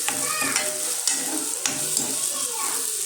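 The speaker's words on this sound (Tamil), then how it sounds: "அரைச்சி வச்சுருக்க இஞ்சி பூண்டு பேஸ்ட் போட்டுட்டு நம்ம நல்லா வதக்கலாம்" Onions and ginger garlic paste sizzle in a pan for a shrimp curry while a spoon stirs, giving repeated scraping knocks over a continuous close fry.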